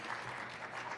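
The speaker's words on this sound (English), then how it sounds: "Round of applause, even though they're not here." Applause at an education technology conference recognition session, a short, faint wash of many hands clapping with no clear gaps, heard from a distance.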